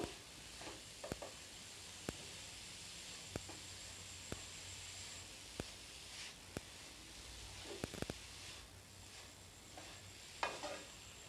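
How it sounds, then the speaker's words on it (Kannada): Grated carrots frying in ghee for carrot halwa, a faint soft sizzle with occasional light spoon taps and clicks against the pan, no voices. "ತುಪ್ಪ ಹಾಕ್ಕೊಂಡು ಚೆನ್ನಾಗಿ ಫ್ರೈ ಮಾಡ್ಕೋಬೇಕು"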